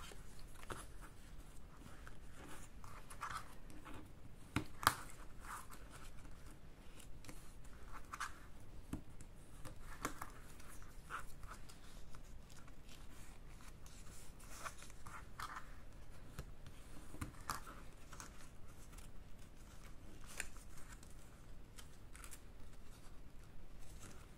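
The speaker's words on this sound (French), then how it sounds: "vous allez les marquer avec votre plioir" A bone folder is drawn along paper folds to crease them, giving soft, repeated scraping and rubbing strokes at close range, fairly quiet and steady, with no talking.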